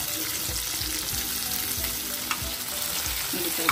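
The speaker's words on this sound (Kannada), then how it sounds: "ಉಪ್ಪು ಹಾಕಿ ಸ್ವಲ್ಪ ಈರುಳ್ಳಿ ಆಡಿಸ್ತಾ ಇದ್ದೀನಿ" Onions with salt fry in a pan for bisibelebath, a constant hiss and sizzle with soft rhythmic scraping thumps as a spoon stirs them, close and with no voices.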